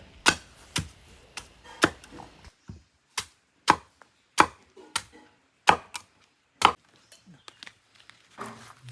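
A series of sharp, loud chops strikes a tender coconut, about a dozen blows in an uneven rhythm with short pauses between them.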